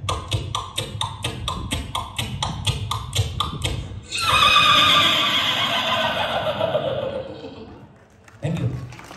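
On stage at a comedy show, a comedian mimics a horse with voice and mouth, first a rapid, even clip-clop of four hooves, then a loud, drawn-out whinny that trails away, followed by a short spoken bit.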